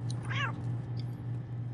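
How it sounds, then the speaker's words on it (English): In the video game Postal 2, a cat gives a single short, clear meow over a steady low electrical hum, then falls quiet. "There's a kitty here."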